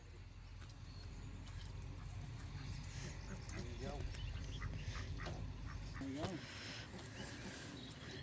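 A drake duck quacks a few times amid a busy outdoor backdrop at a renovation property, with people talking throughout and other farmyard noise underneath.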